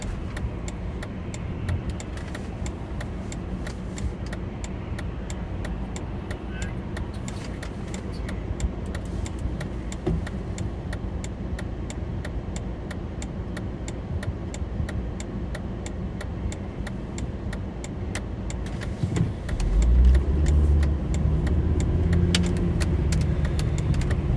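A car drives along a highway through localized fog, its road and engine noise a steady low rumble throughout, growing heavier and louder near the end, with light ticking on top.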